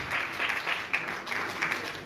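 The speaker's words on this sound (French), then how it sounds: "Linda Kotz, sous vos applaudissements" Audience applause for a guest at a comedy awards show, sustained dense clapping from a crowd with a few louder individual claps standing out.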